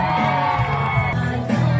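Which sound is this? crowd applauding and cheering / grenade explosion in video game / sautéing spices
crowd applauding and cheering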